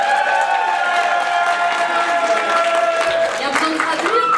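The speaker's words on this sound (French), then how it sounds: "Vous applaudissez dans le vide" An audience applauds at a cosplay convention solo contest, dense sustained clapping with some cheering from a large crowd indoors, loud and continuous, with voices mixed in.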